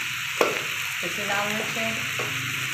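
Chicken frying in a pan with spices, a steady close sizzle with a sharp stir or clink near the start; a voice talks briefly over it.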